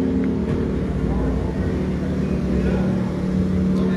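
A black Toyota rally car rolls out from technical inspection at a rally event in Huancané, a steady low engine rumble with crowd and voices talking over it.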